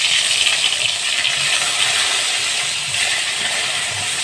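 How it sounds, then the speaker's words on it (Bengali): Eggplant slices coated with salt and turmeric fry in hot oil with a continuous, close hiss and crackle that holds steady throughout, with no talking. "সেই বেগুনটা আমি তেলের উপরে দিয়ে দিচ্ছি"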